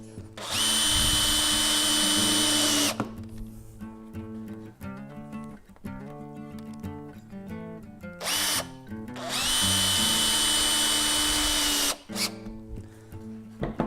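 A power drill drives screws into a wooden saw horse during a woodworking build: two long, loud, high whining bursts with a quieter stretch of tool handling between them.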